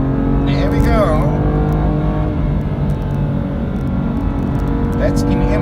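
BMW M2 Competition in manual paddle-shift mode, engine pulling hard as revs climb toward 7,000, a loud sustained growl with rising and falling pitch while someone talks over it.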